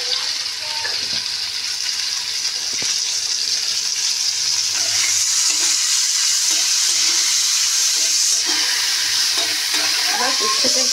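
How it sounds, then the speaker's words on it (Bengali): Round slices of bitter gourd fry in a pan with turmeric and salt, giving a steady, close sizzle and hiss with occasional light stirring knocks. "এবার উচ্ছেটা একটু ভাজা হোক"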